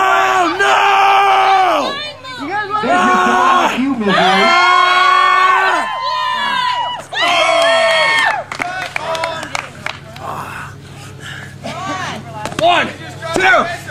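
A rowdy crowd shouts and cheers in loud overlapping bursts, with whoops and chanting voices rising and falling close by, thinning into scattered calls toward the end.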